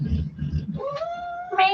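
A pet cat gives a drawn-out rising meow after a short burst of low voiced sounds, loud and close, with a second higher meow starting at the end.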